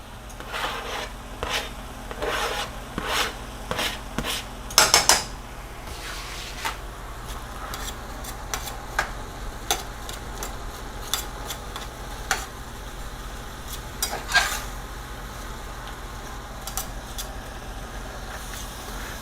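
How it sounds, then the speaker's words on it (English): Onions and garlic soften in a pan for lasagna, a low continuous sizzle with scattered light scrapes and taps of a utensil over roughly twenty seconds, no voices. "I'm only going to cook this for maybe 5 minutes or so, just to get the onions softened, get the garlic to become fragrant."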